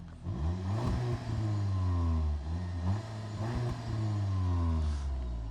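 A Cupra Ateca 300 hp SUV accelerates, its engine note climbing steadily in pitch through several gear changes, loud and close.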